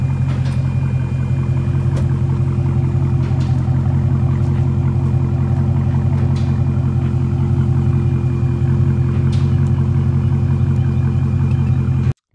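A Dodge Charger Hellcat or Scat Pack 392 gives a loud, close, steady engine rumble with a throbbing exhaust pulse that holds evenly throughout, then cuts off abruptly.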